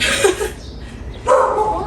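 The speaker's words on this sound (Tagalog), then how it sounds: "Ayan po aso nila tita namin." A pet dog at a relative's home lets out two short yips or barks, close and fairly loud, with a little background voice.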